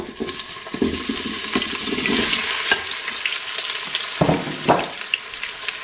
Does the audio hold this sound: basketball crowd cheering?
no